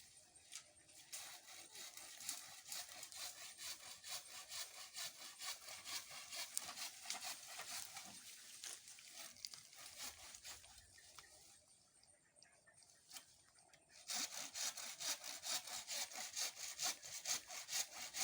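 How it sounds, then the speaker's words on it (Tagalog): Soft wood being cut with a hand saw outdoors, steady rasping back-and-forth strokes that run almost continuously, briefly fade, then return louder and close up, with no one talking. "Pero malambot lang ito lagariin na kahoy to."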